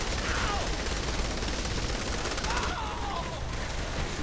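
Dense sustained gunfire in the Saints Row: The Third video game, loud and close, a steady fusillade of rapid shots lasting throughout with no pauses.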